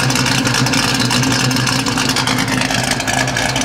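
A Pontiac 455 hot rod with a Pypes exhaust system rumbles loudly and steadily up close, a deep throbbing exhaust note holding at a constant pitch throughout.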